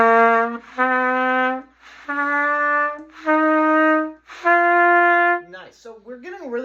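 A beginner's trumpet sounds a series of sustained notes, several held tones separated by short breaks, ending with a few wavering, unsteady notes.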